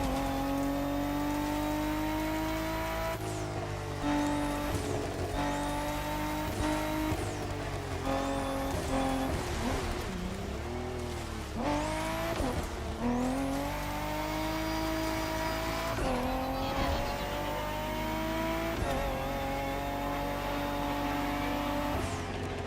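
Peugeot DKR rally car driven in The Crew Motorfest, its engine revving hard through repeated gear changes with rising and falling pitch, tyre squeal and skids, loud and continuous throughout.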